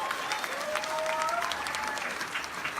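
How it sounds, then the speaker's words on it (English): An audience at a winter concert applauds a soprano, a dense, even wash of clapping from a crowd with faint whistles and cheers mixed in, sustained throughout. "Please give her a huge round of applause."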